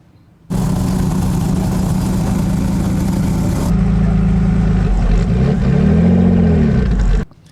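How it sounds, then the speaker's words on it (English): A hot rod's engine at drag week roaring loud and sustained for a burnout, holding a steady high rev before pitch sweeps up and down near the end, then cutting off abruptly. "And it looks like he's going to do another burnout."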